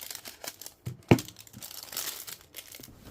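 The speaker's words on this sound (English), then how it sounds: "So let me just open one of these cards," Cellophane wrapper crinkling and tearing as it comes off a Japanese playing card deck, a close, brittle crackle with one sharp rip partway through.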